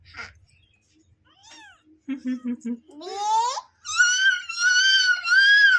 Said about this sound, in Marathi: सई, तुला मांजराची पिल्लं आवडतात ना?